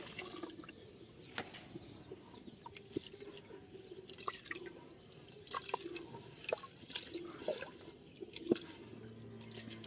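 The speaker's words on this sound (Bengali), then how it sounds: "আমরা খিচুড়ি রান্না করার জন্য চালগুলো সুন্দর করে কষলে কষলে এখন ধুয়ে নিব।" Rice being rinsed in water for khichuri, with scattered drips, splashes and soft squishing of grains stirred by hand, quiet and close, with no talking.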